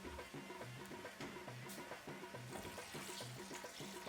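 Water runs and splashes steadily into a grinder jar, a continuous faint pouring sound with no talking.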